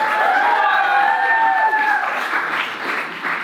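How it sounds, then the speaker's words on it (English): An audience at a comedy roast championship bursts into loud, sustained applause mixed with cheering and whoops from a packed room. The crowd noise eases slightly toward the end. "Big round of applause for Austin Johnson!"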